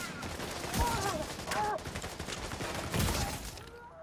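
Video game gunfire crackles in rapid bursts, with several sharp shots and volleys rattling over a steady, busy background of game noise.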